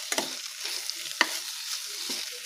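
Ivy gourd curry in a pan, hot sizzling and frying with a few sharp spoon scrapes and clinks as it is stirred, heard close and alone.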